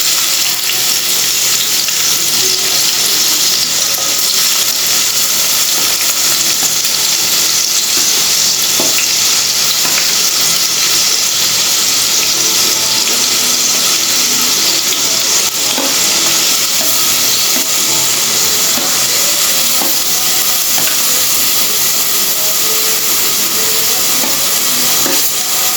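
Tomatoes and onions sauté in two tablespoons of oil in a pan, giving a steady, close crackling sizzle with soft bubbling that runs unbroken throughout, with no talking.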